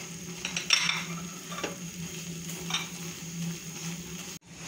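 Flattened rice being stirred into hot jaggery syrup in a pan, a soft scraping and stirring with faint sizzling, close by and steady, with no voices.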